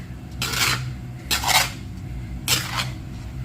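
A metal utensil scrapes and clanks against a pan as rice seasoned with dark and light soy sauce is stir-fried, three bright bursts of scraping at regular intervals over a low steady hum, close and clear with no talking.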